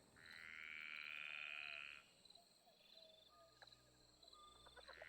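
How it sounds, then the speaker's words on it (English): A single loud frog croaks in a long, buzzing call that fades, followed by shorter, quieter croaks against a soft background of other night sounds, with no talk. "I like how there's one really loud frog in this Smash."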